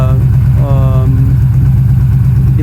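A 2007 Yamaha VStar 1300 motorcycle engine idles while warming up, a steady, loud, close-up rumbling pulse that holds an even rhythm, with a brief voiced sound passing over it partway through.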